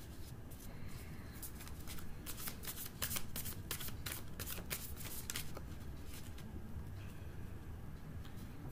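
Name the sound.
handling tarot cards, drawing one card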